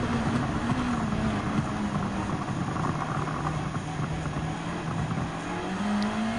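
Race car engine in Gran Turismo 7 at Fuji Speedway, a continuous loud droning whine that climbs and dips in pitch as it holds high revs through the gears, steady and unbroken with no talk.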